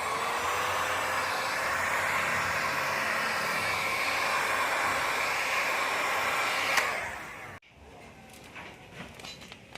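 A heat gun blows hot air onto vinyl wrap film on a car lamp: a steady, loud, airy roar that holds evenly for about seven seconds, then cuts off abruptly, leaving faint handling noises.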